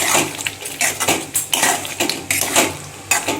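Creamy Afghani egg curry stirred in a pan, with a series of close, fairly loud spoon scrapes and soft clinks against the pan at an even pace, no speech.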